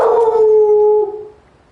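A dog howls in The Matrix Awakens game demo, one long clear tonal howl close and loud that holds steady, then slides down and fades out.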